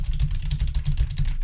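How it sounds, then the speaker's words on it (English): Typing on a computer keyboard in a reverberant room, picked up by an Audio-Technica AT2020+ USB microphone: a quick, steady run of close, light key clicks with no talk. "this is how it sounds when I'm typing on my keyboard"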